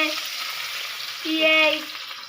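Brief burst of hot oil sizzling as onions hit the kadai for a village-style chicken curry, swelling louder midway, with a few faint tonal squeaks.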